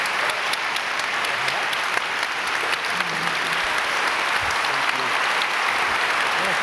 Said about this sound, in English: Let's give a big round of applause to the justices.